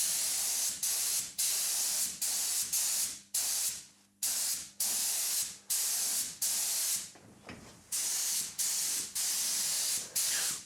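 Repeated hissing blasts of a spray gun painting a car in a garage, each pass lasting about a second with brief pauses between, steady and close.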